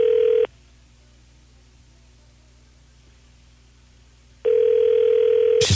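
A telephone line plays a steady electronic tone during a call transfer, loud and close for about half a second, then near-silent hiss on hold before the same tone returns and ends in a short click.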